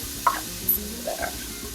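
Vegetables cooking in a soup pot being stirred, with soft sizzling underneath a few distinct scraping and clinking knocks of the utensil against the pot, close and moderately quiet.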